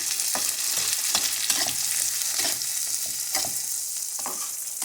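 Tomatoes fry and get stirred in a pan for adobong talong (eggplant adobo), with a constant bright sizzle and repeated scraping stir strokes close by. No one speaks.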